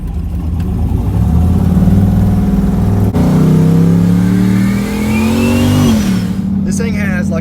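An LS V8 truck engine with a Hiram intake heard from the passenger seat, revving up steadily with a climbing growl, briefly dipping before pulling hard again.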